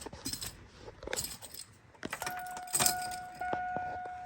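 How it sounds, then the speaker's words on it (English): Keys jangle and clink as the key turns in the ignition of a turbocharged Chevrolet Silverado 4x4 pickup, with several close metallic rattles followed by steady electronic chime tones. "go ahead and turn the key"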